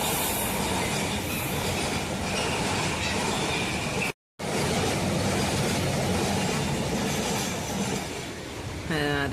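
A goods train rumbles past a railway crossing close by in a steady, loud roar of wheels on track, with a brief dropout midway and a squeal near the end.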